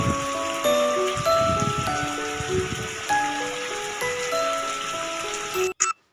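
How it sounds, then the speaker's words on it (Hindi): Heavy rain falls in a steady, dense wash with scattered drips and tinkles, continuing for several seconds before a sudden cutoff near the end. "आज तो बहुत तेज़ी से पानी पड़ रहा है और काफ़ी तेज़ बारिश हो रही है"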